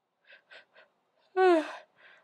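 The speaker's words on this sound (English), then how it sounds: "It's really making me yawn today." A single drawn-out voiced yawn during a jaw-relaxation exercise for TMJ, close and clear, swelling then fading, with a few soft breaths before and after and no speech.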